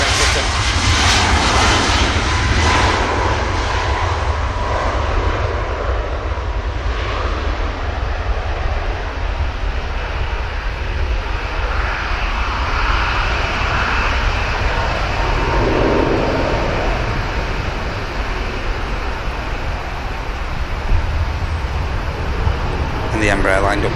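Logan Air Embraer jet at Manchester Airport, a steady broadband engine roar holding throughout as the aircraft lines up for departure, with people talking over it.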